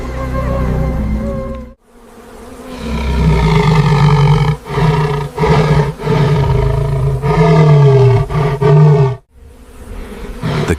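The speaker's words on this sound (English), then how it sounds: "The king roars a terrifying, deep warning." A male lion gives a deep, powerful warning roar in the Kalahari Desert during a standoff with a hyena clan, rumbling loudly in several long surges separated by brief breaths, close and dominant with no voices.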